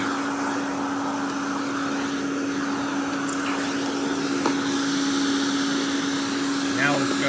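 Royal Classic Power Team 4650 canister vacuum running at reduced suction, a steady whirring motor drone with a constant hum and airy hiss, no pauses.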